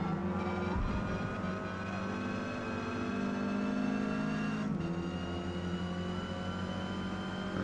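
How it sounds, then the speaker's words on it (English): Race cars drag racing side by side in Forza Motorsport, a Ford Cortina among them, engines droning loud and steady with rising revs and a brief gear-change dip midway. "now he and I are having a drag race down this section here"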